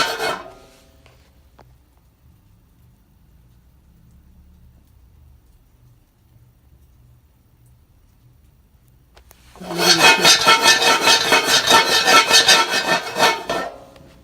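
A faint quiet stretch gives way to a dense burst of rapid crackling and popping for several seconds, close and fairly loud, as coffee beans crack while roasting.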